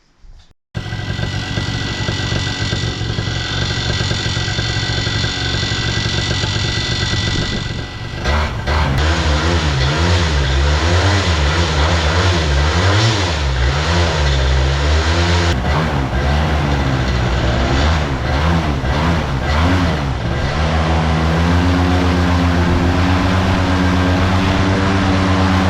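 Paramotor engine starts after a moment and runs loud and close with a buzzing drone, its pitch wavering and revving through the middle, then settling to a steadier hum.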